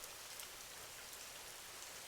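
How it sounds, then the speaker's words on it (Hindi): Steady rain hisses down in a village, a dense even patter with no gaps, faint and continuous with no voices. "बारिश तेज हो रही है"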